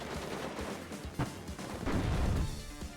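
Gunfire and artillery in the real-time strategy game WARNO, with airborne infantry suppressed by a Jaeger and two AMX vehicles, a dense continuous roar of shots and booming impacts, heaviest toward the end.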